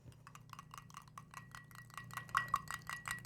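A metal spoon clinks repeatedly against a cup while stirring a spoonful of salt into water, a steady series of light taps with a few brighter rings near the end, alone with a faint background hum.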